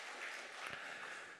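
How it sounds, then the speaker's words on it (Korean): A church congregation claps briefly at a Sunday service to mark their pastor's birthday. The faint, even patter of applause lasts just over a second. "생신 축하하면서 박수라도 한번 하시죠"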